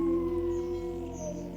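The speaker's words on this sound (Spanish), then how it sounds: "el hombre lobo desapareció en la oscuridad entre aullidos" A werewolf howls somewhere in the darkness: one sustained, steady tonal wail with a low rumbling undertone, holding at an even pitch and fading slightly toward the end.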